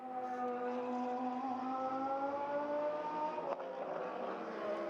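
A Lamborghini GT race car in qualifying at Silverstone drives past with a steady, loud engine note that climbs slowly in pitch, then a brief gear shift or bump, then a rougher continuing roar.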